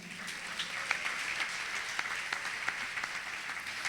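Church congregation applauding together, a steady wash of many hands clapping at moderate distance with a few sharper individual claps standing out, no voices over it.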